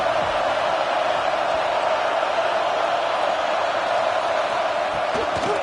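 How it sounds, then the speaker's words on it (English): A stadium crowd at a Wildcats football game keeps up a loud, steady roar for the whole stretch, a dense and unbroken wash of many voices with no clear individual cheers standing out. "This crowd ready to make its presence known."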